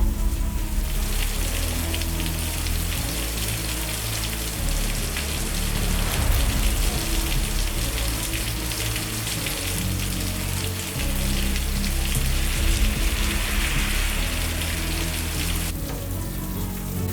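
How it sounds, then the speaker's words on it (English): Steady rain falls on a rainy day, a dense continuous patter of drops on surfaces, moderately loud and unbroken with no voices. "It's a rainy day"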